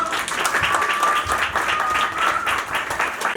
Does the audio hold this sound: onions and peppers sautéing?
no